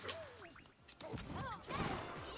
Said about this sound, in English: Some light smashing.